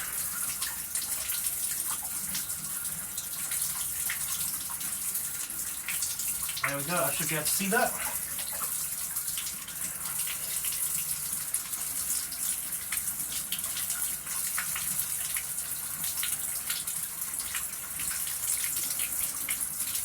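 A shower runs in a steady, unbroken hiss of falling water that lasts the whole time, with someone talking briefly over it.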